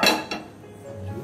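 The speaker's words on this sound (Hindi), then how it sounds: "पैन चढ़ा देते हैं गैस के ऊपर।" A metal pan being set down on a gas stove while cooking bhindi masala: a sharp clank at the start, a second lighter knock, then a faint ringing fade.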